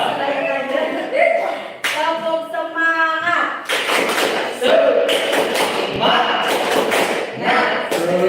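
Classroom group doing a rhythmic spirit clap in an Indonesian school, rapid patterned claps and thumps mixed with chanting voices and laughter, loud and close.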